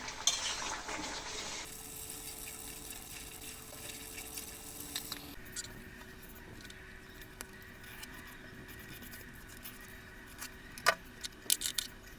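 Egg, potato and pea curry cooks in oil, giving a soft steady sizzle with occasional light clinks and scrapes of a utensil against the pan.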